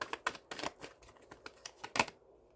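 Tarot cards being shuffled by hand, a quick series of crisp riffling taps and flicks with a brief louder snap near the end, close and fairly quiet with no talking.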